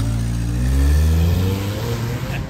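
A Toyota Yaris engine revs steadily in full race mode on open concrete, a loud, close, droning mid-pitched roar with a slight swell and fall, no voices over it.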